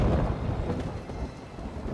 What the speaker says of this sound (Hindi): बिजली का गरजना उसके कदमों की आहट है।